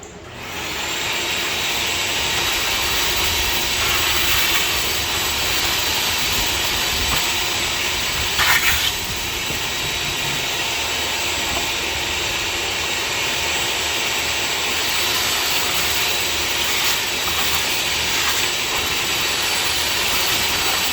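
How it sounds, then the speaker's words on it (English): A shop vac drones with a constant loud airy roar as it sucks debris out of a Weber grill, with a brief rattle of material hitting the hose partway through. "shop vac, clean all that up."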